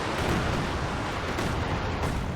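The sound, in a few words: Panzerwerfer rocket artillery shot in Company of Heroes 2 video game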